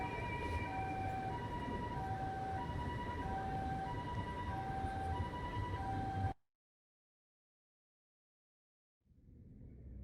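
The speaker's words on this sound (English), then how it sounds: "Siren." A siren wails in the video game Lost Judgment, repeating in an alternating two-tone pattern over busy street noise for about six seconds. It cuts off sharply into silence, and faint background noise then returns.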